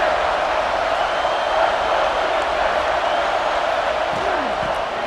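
Steady roar of a stadium crowd at a college football game in EA Sports College Football 26, a continuous dense wash of voices underneath a commentator's talk.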